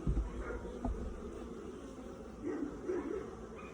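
Honeybees drone steadily around an open, thriving backyard hive during an inspection. The buzz is faint and close and holds a continuous hum, with a few soft knocks from handling.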